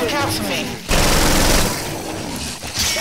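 Rapid automatic gunfire bursts from a zombie shooter video game, loud and dense, with a short lull between volleys and excited voices talking over the action.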